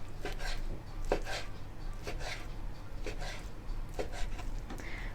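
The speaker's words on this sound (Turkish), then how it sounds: "Şimdi şerit şerit doğradığımız tavukları küp küp bir hale getireceğiz." A knife chops chicken strips into cubes on a cutting board, steady quick repeated strikes in uneven bursts, close and clear over a low background hum.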